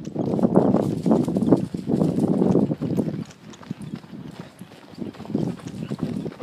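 A horse walking uphill under a rider gives a steady, close clip-clop of hooves, with the rhythmic hoof beats continuing through the whole stretch.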